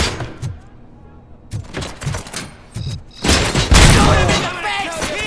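Gunfire in the video game RoboCop: Rogue City booms in several heavy shots and then a dense volley, loud and close, with voices shouting between the blasts.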